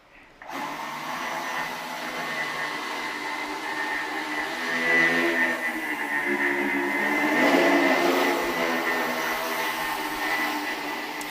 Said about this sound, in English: When you put them together, they behave like one high-performance quadricopter.